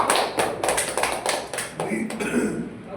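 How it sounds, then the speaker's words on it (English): A small audience at a Toastmasters club meeting gives a round of applause after a prepared speech, with loose, close-up claps of uneven rhythm and an occasional thump or cough. "Can we give a big round of applause for Toastmaster Monica?"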